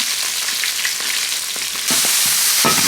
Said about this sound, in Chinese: 大料炒香，豆瓣酱炒出红油